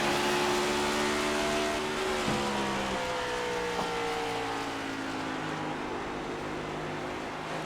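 A NASCAR Gen 7 race car in the iRacing video game at Phoenix downshifts on track, its engine note dropping through falling harmonic steps amid steady loud mechanical drone, with no talking.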